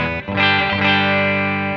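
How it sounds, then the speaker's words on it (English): An electric guitar with a bridge humbucker plays through the clean channel of a Fender Supersonic amp, a short strummed chord ringing out full and sustained with a brief dip early on. "Here's the humbucker at the bridge running through to the clean channel of a Fender Supersonic."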